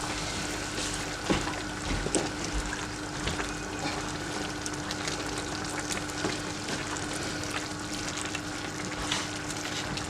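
Tomato sauce for stuffed squid sizzles and simmers steadily in a pan while a spoon stirs it, giving a constant close bubbling hiss with small scraping clicks.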